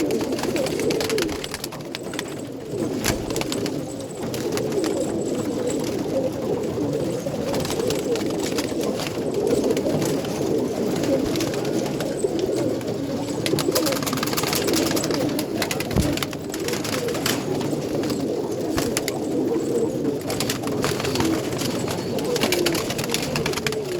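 Pigeons coo continuously from a hobbyist's flock in Multan district, a dense, steady, low murmur heard close for the whole stretch, with a few faint clicks and rustles mixed in.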